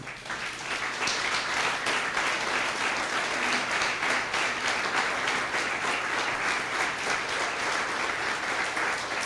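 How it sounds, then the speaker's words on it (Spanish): A church congregation applauds in a dense, even roar of clapping that holds steady and loud from start to finish, with no voices rising above it. "Dale un aplauso al Señor."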